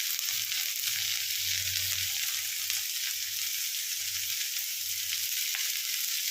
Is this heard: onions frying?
yes